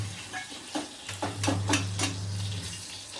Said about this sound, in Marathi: इकडे सगळा आवाज येतो तुम्हाला फोडणीचा